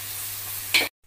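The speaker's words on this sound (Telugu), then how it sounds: "అండ్ ఈ మామిడికాయ తురుమును కూడా ఇప్పుడే వేసేసుకోవాలండి ఇందులోకి." Grated raw mango dropped into a pan of fish curry and stirred, a brief close sizzle and scrape over a steady background hum, ending abruptly.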